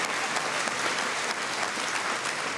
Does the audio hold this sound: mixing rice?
no